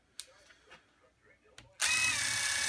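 A DeWalt DCF887 impact driver drives a 3 3/4-inch T25 Torx construction screw at speed 3, a loud continuous hammering whir that bursts in abruptly after a few faint knocks and keeps going to the end.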